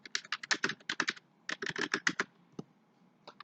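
Quick bursts of clicking keystrokes on a computer keyboard as a name and student ID are entered, close and clear, in two rapid runs with a short pause between and a few stray taps at the end.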